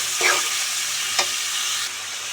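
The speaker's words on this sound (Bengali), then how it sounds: "আলু, গাজর আমি ফ্রাই করে রাখছি বাঁধাকপি দিয়ে।" Potato, carrot and cabbage frying in a pan, a loud continuous close sizzle broken by a couple of stirring scrapes, with no one talking.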